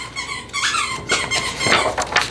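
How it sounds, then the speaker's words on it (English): A dog squeaks a squeaky toy nearby, a run of short, high squeaks in quick irregular bursts with no talking. "my pupper's doing the squeaky thing"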